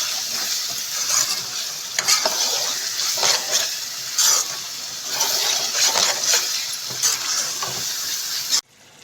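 Masala sizzles steadily in a hot pan while a spoon stirs it in repeated scraping strokes, loud and close, with the frying noise continuous until it cuts off just before the end.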